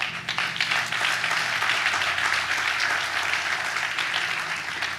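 An audience applauds at a groundbreaking ceremony for the Woodhill Homes redevelopment in Cleveland. The clapping is dense and steady, a full round that holds for the whole stretch at an even level.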